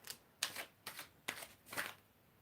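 Tarot cards shuffled by hand in five quick riffling bursts at an even pace, close and fairly quiet, with no talking.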